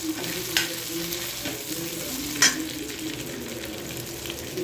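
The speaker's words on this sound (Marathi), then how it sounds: "बघा मस्त असा कांदा फ्राय करून घ्यायचा आहे आपल्याला थोडंसा" Onions fry in oil in a handi, a continuous close hiss and crackle with a couple of faint spoon scrapes as they are stirred.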